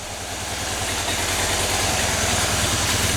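Harley-Davidson Dyna motorcycle engine idling steadily with a deep, loping low thump, close and continuous throughout.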